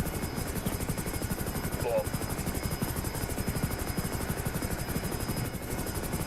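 A police helicopter in GTA V (FiveM roleplay) approaches to land, its steady rotor thump and engine whine loud and constant throughout, with radio-style talk faintly under it.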